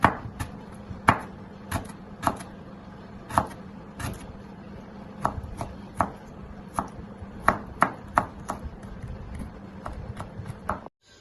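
A knife finely chops chilli-prawn garnish on a board in a steady series of crisp, close taps, about a dozen evenly spaced strokes with no talking.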